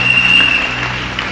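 Broad, steady applause and cheering from a church congregation during a French-language sermon, a continuous dense wash of claps that holds even for just over a second.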